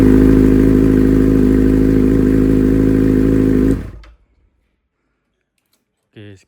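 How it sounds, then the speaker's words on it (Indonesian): A Kawasaki Ninja ZX-6R 600cc with a short exhaust idles loudly up close with a steady engine drone, then cuts off abruptly into near silence before a brief faint sound. "kita coba cek ya guys ya bagaimana suara dari Ninja JX6R ini guys"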